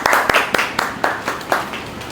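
Classmates clap for a student who scored full marks, 50 out of 50, with about nine sharp, evenly spaced claps in a quick unison rhythm, close by in a classroom.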